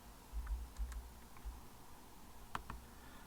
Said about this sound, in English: all I have to do is press delete on the keyboard